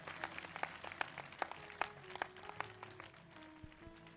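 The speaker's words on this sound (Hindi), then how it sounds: "जोरदार ताली बजाकर प्रभु को धन्यवाद दें।" A church congregation at a prayer service claps together in a steady, scattered patter, with music or a low hum running beneath the applause throughout.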